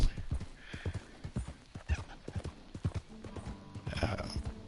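Rhythmic clip-clop of horse hooves during a ride in the video game Red Dead Redemption 2, a steady trotting beat with a brief whinny, moderately close.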